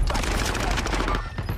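Dense, continuous automatic gunfire from a Call of Duty Warzone match, loud and relentless bursts filling the clip with a brief dip near the end before more shots.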